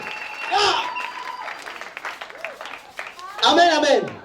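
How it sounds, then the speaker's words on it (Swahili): A church congregation claps and ululates in praise, with loud bursts of applause and trilling voices at the start and again near the end, and quieter voices between. "Shangilia Bwana kwa makofi na vigelegele."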